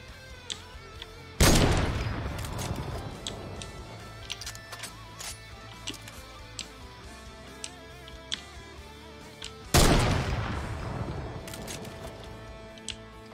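Gunshots in a battle royale shooter game: two heavy, sharp blasts several seconds apart, each ringing out with a long tail, over a steady background of small clicks and ticks.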